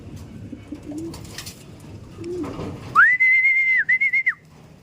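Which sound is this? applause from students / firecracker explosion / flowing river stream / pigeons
pigeons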